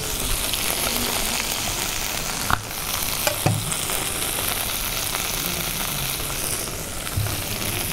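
Chopped pepper and garlic fry in a pan with a dense, steady sizzle. A few short knocks and stirring sounds break in, and no voice is heard.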